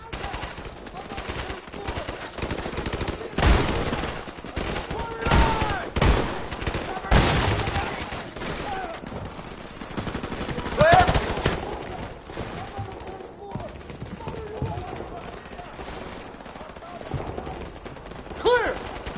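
Bursts of automatic gunfire in the shooter game Modern Warfare during a building breach, repeated loud rattling volleys and booms with quieter gaps, voices calling out between them.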